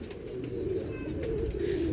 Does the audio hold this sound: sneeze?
no